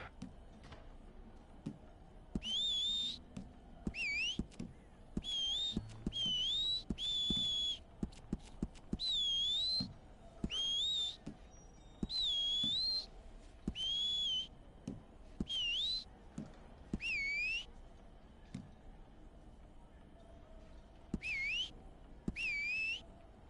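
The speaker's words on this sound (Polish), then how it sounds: "Gwizd." Whistle emote in Red Dead Redemption 2 Online, a series of clear, high, warbling whistled phrases repeated with short pauses over faint background game noise and soft thumps.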